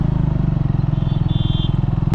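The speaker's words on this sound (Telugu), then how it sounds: "అబ్బా ఇది స్టాల్ అవుతుందిరా ఇంజిన్." A motorcycle engine idling roughly and close on an evening ride, a steady loud low throb with a brief crackle at the very end, no voices over it.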